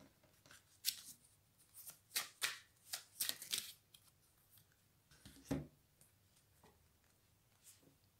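Playing cards shuffled by hand in a quiet room for a tarot-style reading, several quick riffling bursts around the first four seconds, then a single sharper snap, fairly close and clear with no talking.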